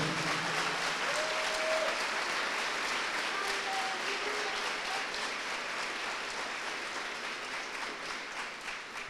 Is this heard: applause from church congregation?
yes